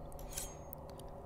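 Scissors snipping in a Christmas Nutcracker video game, a few quick faint metallic cuts over a steady low background hum.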